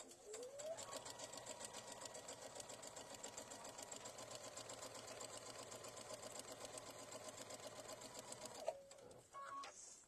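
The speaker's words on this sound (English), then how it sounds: "So now I'm just going to sew across." A sewing machine stitches steadily across spooky-themed quilt blocks, a fast even needle chatter running continuously at close range for most of the clip before stopping near the end, followed by brief handling sounds.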